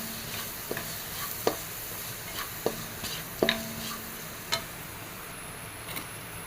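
Turmeric, coriander powder, kanthari chilies and black pepper are sautéed in a pan for a medicinal rasam, with a faint, soft sizzle and occasional sharp clicks of a spoon against the pan.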